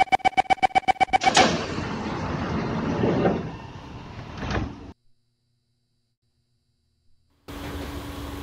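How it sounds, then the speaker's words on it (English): On a train, numbered 804, a quick series of warning beeps is followed by the rumbling slide and thud of doors closing. A pause of near silence follows before the train's running noise returns. "Doors are closing."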